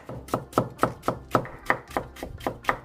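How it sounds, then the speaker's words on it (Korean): A knife julienning half a cucumber for spicy jjolmyeon noodles, striking the cutting board in a quick, steady rhythm of about ten crisp chops, close and clear with no talking. "오이 반개를 채 썰어줍니다."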